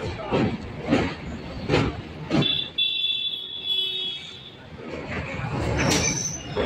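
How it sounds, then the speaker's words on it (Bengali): A train rolls slowly across the Vivekananda Setu bridge at night, with rhythmic rumbling thumps of wheels over joints and a thin metallic squeal rising briefly in the middle. "এর জন্য ট্রেন একদম ধীর গতিতে চলছে"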